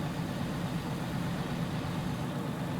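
Tractor engine idling in Farming Simulator 19, a steady low rumbling drone with a rough texture, constant and unbroken with no talk.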